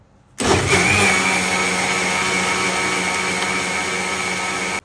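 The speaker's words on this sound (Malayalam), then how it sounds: "ഇതിട്ടിട്ട് ഒന്നും കൂടി മിക്സിയിൽ ഒന്നും കൂടി അടിച്ചെടുക്കുക" An electric kitchen mixer grinder grinding jaggery starts abruptly and runs loud and steady, a close continuous motor whine with no talking.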